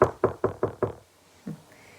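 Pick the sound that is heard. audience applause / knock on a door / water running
knock on a door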